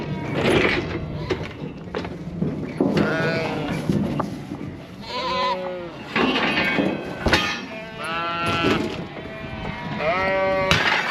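Sheep and lambs bleat constantly on a sheep farm during lamb weaning, many loud, near and distant calls overlapping, with a busy background of pen noise and occasional clatter.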